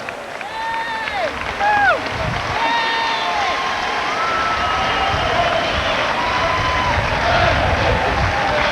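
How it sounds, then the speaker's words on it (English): Crowds lining the 1991 Indianapolis 500 Festival Parade applaud and cheer as the procession passes, a steady distant roar and patter under a commentator's voice, with brief whistle-like tones early on. "Listen to that applause, and that feels good"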